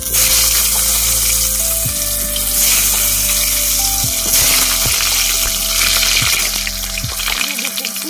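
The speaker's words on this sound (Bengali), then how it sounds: "এবারে আমি আলুটা ভেজে নেব" Potatoes sizzling and frying in hot oil in a kadai, a continuous loud crackle with occasional stirring knocks and a low background hum.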